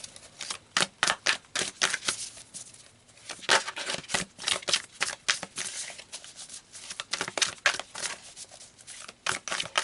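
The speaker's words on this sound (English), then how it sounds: "Okay, let's pull some more cards." A deck of cards shuffled close up for a card reading, with rapid riffling flutters and snaps in repeated bursts across the whole stretch, a short lull partway through, and no talking.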